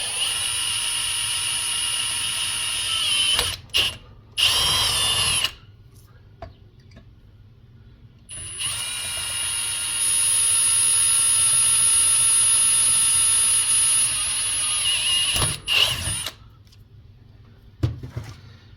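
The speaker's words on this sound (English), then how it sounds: "drill out this piece of aluminum angle" A hand drill whines at high speed while drilling aluminum angle, running in several loud stretches separated by short pauses.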